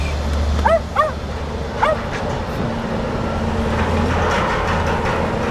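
A dog gives several sharp, close barks, a quick pair followed by a single one, before falling quiet over a steady low rumble of background noise outdoors near a bridge.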